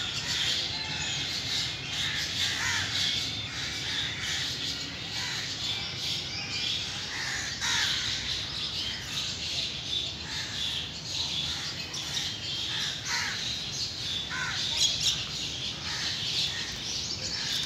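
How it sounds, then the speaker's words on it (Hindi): Crows caw and squawk repeatedly from some distance, mixed with other birds chirping, a continuous faint chorus with no one speaking. "जो कौवे आप देख रहे हैं ये यहाँ पे पकड़ के नहीं रखे हुए"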